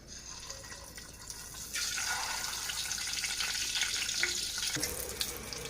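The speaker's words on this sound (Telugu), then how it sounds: "ఆయిల్ హీట్ ఎక్కిన తర్వాత కొద్దిగా పసుపు వేసుకొని ముందుగా ఎగ్స్ వేయించుకుందాం" Eggs frying in hot oil with a little turmeric make a faint, steady crackling sizzle that grows slightly busier partway through. It is quiet and continuous with no voices.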